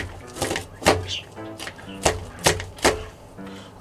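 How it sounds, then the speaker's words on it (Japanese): A knife mincing green chili peppers on a cutting board, about eight separate firm chops in an uneven rhythm, close and fairly loud, with no talking. "じゃあ青唐辛子をみじん切りにします。"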